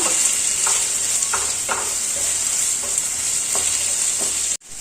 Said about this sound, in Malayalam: ഇനി എല്ലാം വെജീസും ഒന്ന് വഴറ്റിയെടുക്കണം.